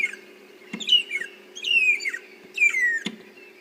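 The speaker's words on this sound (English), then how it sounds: "a family of long-tailed shrikes that are really singing out their chorus" A family of long-tailed shrikes calling in chorus, three bursts of descending whistled and squeaky notes with sharp clicks between them, close and clear over a faint low hum.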